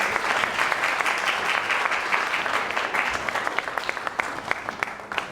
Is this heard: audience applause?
yes